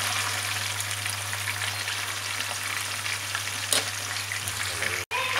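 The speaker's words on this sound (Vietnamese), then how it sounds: "Bây giờ mình sẽ chiên cái phần kia để cho nó chín." Pork skin frying in a pan for Vietnamese crispy roast pork, a steady dense sizzle with a low oily hum running throughout, one brief pop near the end.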